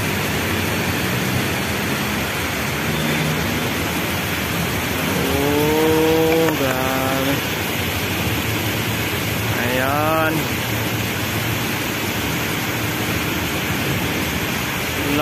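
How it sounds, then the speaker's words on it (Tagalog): Heavy afternoon rain pouring down in a dense, loud, continuous roar outdoors, with a few brief tonal sounds rising over it midway. "Lakas ng ulan o."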